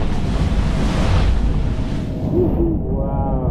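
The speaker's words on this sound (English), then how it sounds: "Breaking through the waves." Racing sailboat in The Ocean Race slicing through ocean waves near Cape Horn, a loud, steady rush of spray and surf mixed with heavy wind buffeting, easing slightly toward the end.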